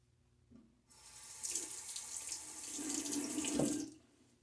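Tap water runs steadily into a sink for a few seconds while a razor is rinsed between shaving passes, building to a loud rushing stream with a splashy peak near the end before cutting off.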